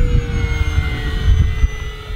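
An E-flite RV-7 RC model airplane on a 3S battery, flying at about three-quarter throttle, produces a steady electric motor and propeller whine with a constant tone, close and loud over wind buffeting.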